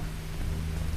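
Steady low hiss and hum of a television playing in a house in the horror game Paranormal Territory 2, a constant noisy wash with no voices.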